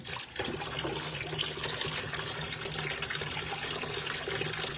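Tap water runs steadily into a sink while dishes are washed, a close, continuous rushing splash with slight shifts as the stream is disturbed, no speech over it.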